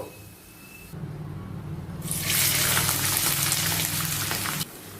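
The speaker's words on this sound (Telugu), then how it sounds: "ఇదే విధంగా ఆ మిగిలిన ఉల్లిపాయ ముక్కలను కూడా ఫ్రై చేసేసుకోవాలి" Sliced onions fry in oil for Hyderabadi chicken dum biryani, starting as a low bubbling and then swelling into a loud, dense, steady hiss that cuts off near the end, close up with no speech.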